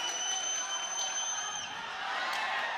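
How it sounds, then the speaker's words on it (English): Boxing arena crowd cheering and roaring steadily throughout, a broad wash of voices with occasional whoops rising above it. "Crowd coming to life."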